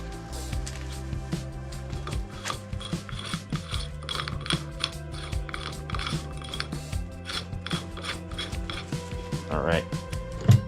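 A ratchet tightens a bolt on a 1998 Kawasaki KX125 front fork during a rebuild, rapid clicking pawl sounds in bursts with metallic handling close by, and someone speaks over it.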